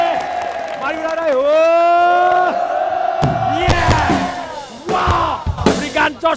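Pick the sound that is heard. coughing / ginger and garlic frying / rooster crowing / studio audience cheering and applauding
studio audience cheering and applauding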